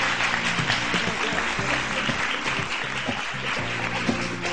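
A TV studio audience at a Pakistani morning show claps steadily as a female guest is called onto the stage, dense, sustained applause filling the room alone.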